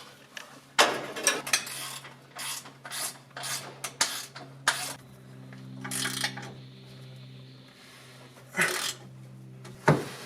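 Parts are tightened by hand during a turbocharger install on a 2008 Chevy Cobalt, with repeated rasping ratchet strokes and metallic rubbing in short irregular bursts, close and fairly quiet.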